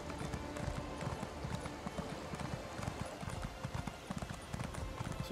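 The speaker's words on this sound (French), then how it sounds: "Cheval qui me semble déjà si lent." A horse gallops in the video game Elder Scrolls Online, its hooves drumming in a steady, quick rhythm that continues without a break. The hoofbeats sound close and sit among busy in-game background noise.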